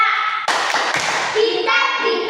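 A classroom of young pupils claps and chants a short praise cheer for a classmate, with sharp rhythmic hand claps mixed with children's voices, close and lively.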